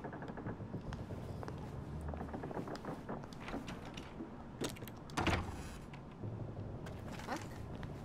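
A secret bookshelf door in We Happy Few grinds and slides as it moves, with a sharper mechanical clunk partway through and some faint talk alongside.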